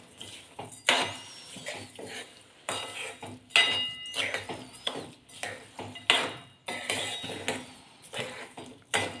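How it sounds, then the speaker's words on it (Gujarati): A spoon stirs sugar, fried cashews and raisins into fada lapsi in a pan, scraping and clinking in repeated close strokes with a few sharper metallic knocks, steady and moderately loud throughout. "બધું બરાબર મિક્સ કરી દઈએ"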